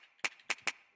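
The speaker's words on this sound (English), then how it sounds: "That's the finger snap, I think." Finger snap sample with a little reverb, three sharp snaps in quick succession, each with a short ringing tail, fairly quiet and alone.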